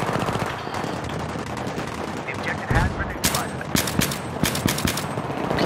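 Automatic gunfire in the video game Battlefield 3, dense rapid bursts and single shots close and loud, running continuously with some louder cracks near the end.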